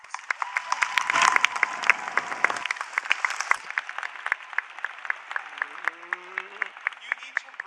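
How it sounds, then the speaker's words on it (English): A commencement crowd at Wheaton College claps after a graduating student speaker's request, with scattered cheering and voices early on, thinning into distinct individual claps near and far. "so please clap"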